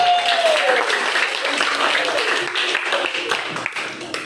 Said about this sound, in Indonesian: Tepuk tangan untuk Asman dari kelompok